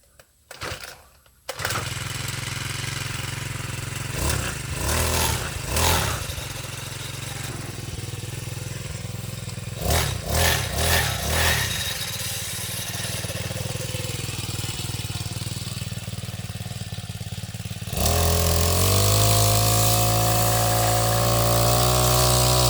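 A Honda GX35 brush cutter's small four-stroke engine starts up and runs loudly up close, idling with a few sharp throttle revs, then climbing to a sustained high-speed whine near the end.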